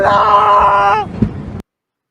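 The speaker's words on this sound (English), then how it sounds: "That scream!" A loud, sustained scream from a creepy witch clip, harsh and close for about a second, then breaking off into a short rough tail before going silent.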